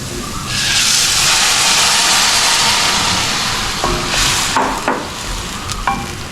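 Tomato puree hits butter chicken in a hot pan, a loud sustained sizzle and hiss that slowly eases, with a few scraping stirs of a spoon near the end.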